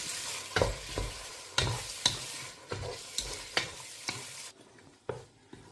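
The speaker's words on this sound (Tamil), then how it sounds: "தயிரையும் போட்டு நல்லா இப்படி மிக்ஸ் பண்ணணும்" Curd being stirred into a prawn biryani mixture in a pot, a series of scraping, squelching strokes at a steady rhythm with a faint sizzle underneath, close and moderately loud, no talking.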